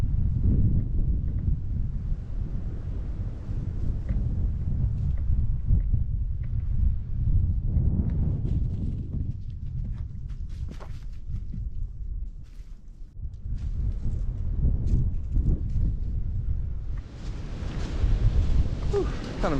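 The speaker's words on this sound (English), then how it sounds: "Wind is wicked right now." Strong, gusty wind on a hiking trail in a small canyon, blustering loudly across the microphone in a continuous low roar that swells and dips, with faint rustling and brief bursts throughout.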